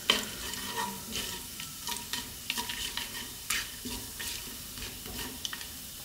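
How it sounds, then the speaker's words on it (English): Spices sizzle in hot oil while being stirred, a steady crackling hiss broken by scraping and clicking stirring sounds, moderately close. "What we want to do is just infuse the oil just for a few seconds."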